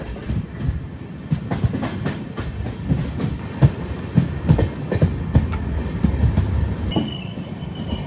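An Amrit Bharat Express runs on rails in Tamil Nadu near Chennai Egmore, a loud steady rumble with rhythmic clickety-clack wheel beats and a brief squeal toward the end, no voices.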